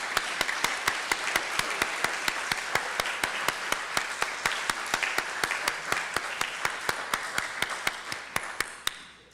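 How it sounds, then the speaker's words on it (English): A congregation applauds children at a church gathering with sustained clapping over about nine seconds, sharp individual claps standing out through the steady patter before it thins at the end. "let's give them a round of applause, not just for cupcakes, but for their accomplishment"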